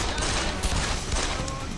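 Gunfire from the video game Deus Ex: The Fall, a dense, continuous burst of shots filling the short span at steady loudness, with no pauses between them.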